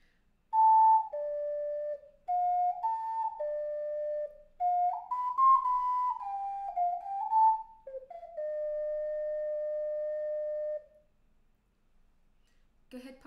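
An ocarina plays sections three and four of a tune, a clear solo melody of sustained and stepping notes that closes on a long held tone, with no voices.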